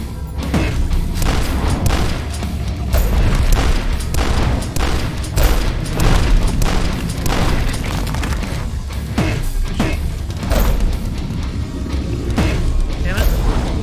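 Repeated heavy booming blasts from a double-barrel shotgun in the retro shooter DUSK, loud and close, firing at a steady, rapid rhythm over dense mechanical game noise and clanks.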